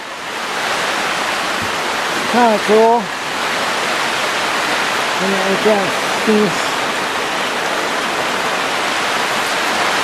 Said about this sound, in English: Here's the pump. So it's pumping the water.